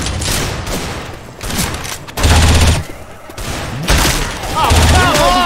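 Gunfire in Left 4 Dead 2 during a chaotic co-op fight, with rapid bursts of automatic shots and heavy booming blasts in loud clusters, while players shout over the shooting.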